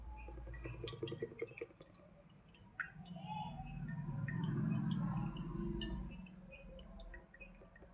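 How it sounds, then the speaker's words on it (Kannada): Cooking oil pours into a frying pan, heated for sabudana vada, as a faint, soft trickle and drip that swells in the middle and then fades, with no voices. "ಬಾಣಲಿಗೆ ಎಣ್ಣೆ ಹಾಕೋರಿ."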